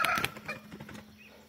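Backyard hen with five young chicks, with faint clucking and soft cheeping in a short, close burst that fades out after the first moment.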